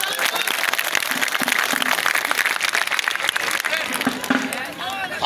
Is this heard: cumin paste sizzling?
no